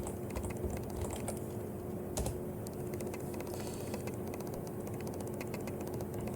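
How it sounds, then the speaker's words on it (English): Steady rapid typing on a computer keyboard as a web address is entered, close and fairly quiet, with continuous clicking keystrokes and no speech. "So we're going to type nvidia.com/drivers."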